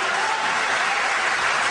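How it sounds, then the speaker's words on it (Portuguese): A church congregation applauds, a dense continuous clatter of many hands clapping at once, loud and steady throughout the short burst. "Aplauda Jesus por eles."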